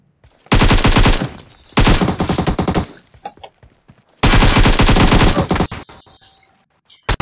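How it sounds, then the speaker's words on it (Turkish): Automatic gunfire in the PUBG Mobile shooter game, loud close bursts of rapid shots, a short burst then a longer one and a final extended volley, with quieter scattered shots between them. "Ya adam nasıl vurdu beni ya?"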